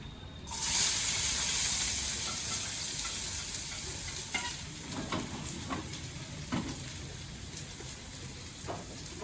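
Mustard seeds hit hot oil for poha and burst into a loud, close sizzle at once. The hiss fades slightly and steadies, with light stirring scrapes and pops scattered through it.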